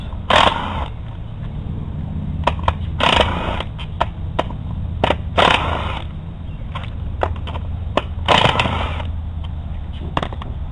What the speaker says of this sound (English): Using that same 1/2-inch socket, you will remove 1, 2, 3, 4, 5, 6, 7 bolts.